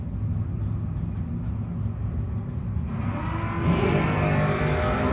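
A Pontiac T1000 and a Mustang rev at a drag race launch, a loud engine drone that swells as the cars pull away, with no talk.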